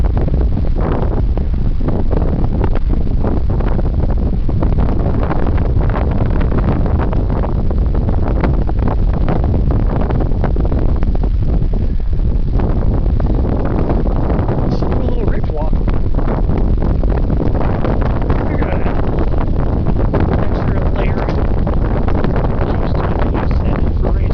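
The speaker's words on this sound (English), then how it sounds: "forgive me again if the wind is a factor in my audibility" Strong wind buffets the microphone on a mountain hike to Reyes Peak in Los Padres National Forest, a loud, constant low roar with rushing gusts throughout and no clear speech.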